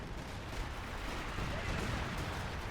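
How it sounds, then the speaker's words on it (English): Artillery shells landing in the Company of Heroes 2 World War II strategy game, a tank battle in open fields: a steady, loud wash of blasts and gunfire rumble with a faint voice underneath. "Artillery just comes in."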